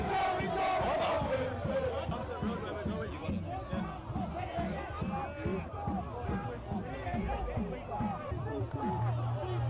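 A large crowd of marching protesters shouts and chants in a steady, rhythmic cadence, loud and close, with overlapping voices and babble throughout.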